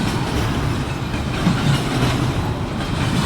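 An intermodal freight train with a DPU locomotive on its rear passes close by, a loud continuous rumble of rolling cars with rhythmic wheel clatter and a brief clunk midway.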